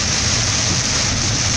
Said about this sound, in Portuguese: a chuva tá bem violenta